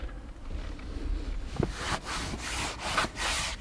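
A grime wipe rubbing over a Lexus's plastic car trim: close, soft repeated swishing and scrubbing strokes at an uneven rhythm, alone.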